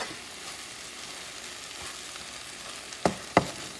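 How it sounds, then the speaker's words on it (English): Crabmeat dip mixture with cilantro cooking in a pan, a soft steady sizzle close by, broken near the end by a few sharp scraping stirs or clatters of a utensil. "let it cook for another 60 seconds"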